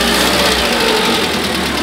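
A car engine freshly fitted with a new head gasket revs steadily and loudly up close, a continuous broadband roar with a low rumble and no talk over it.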